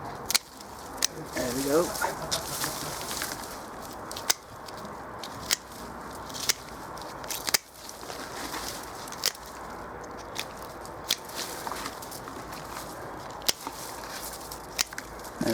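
Stems of Mayan Rose potato plants being cut through in a garden container, a series of sharp, close snips and crunches spaced irregularly over low background noise, with a brief spoken remark.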